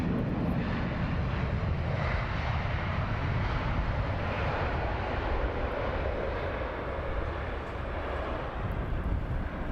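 An airliner in the BEA special colour scheme lands at Heathrow in a crosswind, giving a broad, sustained jet roar that stays loud and even for the whole stretch, with no voices.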